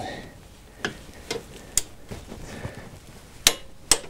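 A ratchet wrench on a universal joint tightens a bolt on a car's stabilizer bar bushings: sharp metallic clicks at irregular intervals, a few light ticks, then two louder snaps near the end, no voices.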